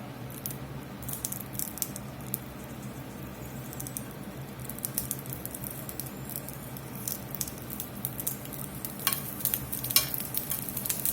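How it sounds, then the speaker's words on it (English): Asparagus sautés in olive oil in a skillet over medium heat, a faint steady sizzle and patter with occasional soft scrapes and ticks, close but quiet and with no voices. "We're just going to saute these here just a minute or two over a medium heat."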